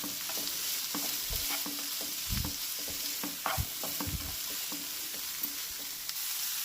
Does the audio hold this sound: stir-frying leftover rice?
yes